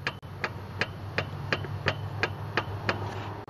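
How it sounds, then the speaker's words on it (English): Piston wobbling inside the cylinder of an EZGO gasoline golf cart engine: a steady run of sharp metallic knocks, about three per second, ticks evenly over a low idling hum, close and fairly quiet. "That's the piston wobbling back and forth on the cylinder walls."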